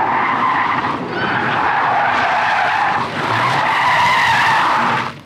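A drift car with a clutch kick slides through a turn, its tires skidding and squealing loudly over a revving engine, with brief dips in the screech as the slide is corrected.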